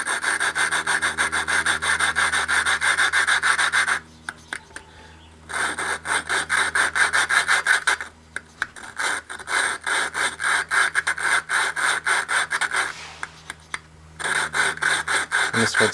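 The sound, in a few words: lapping a rototiller valve with a suction cup tool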